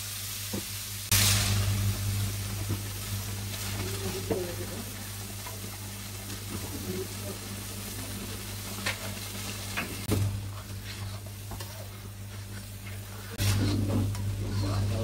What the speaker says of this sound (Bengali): আপনার এই মশলাটা কিন্তু 3-4 মিনিট ভালো করে ভুনতে হবে